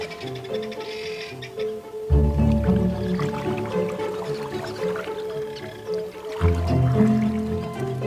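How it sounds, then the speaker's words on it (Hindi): Springbok antelopes wade into cold water at Etosha, with soft sloshing and squelching splashes that come in two bursts over a steady musical backdrop. "पर यहां ये स्प्रिंगबॉक बिना किसी चिंता के ठंडे पानी के अंदर जा सकते हैं।"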